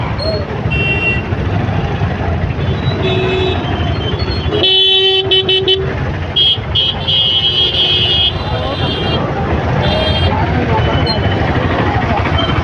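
Busy road traffic with several car horns tooting in short bursts over a constant engine rumble, close by and loud, while people talk throughout.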